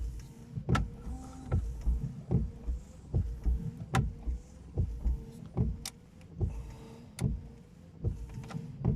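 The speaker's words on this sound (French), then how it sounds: "pour le essuie-vitre arrière, il suffit juste d'appuyer sur le bouton qui est là" The rear windscreen wiper of a 2007 VW Polo 1.2 runs in a steady rhythm, each sweep ending in a sharp click or thump, repeating about every second, close and quiet with no talk.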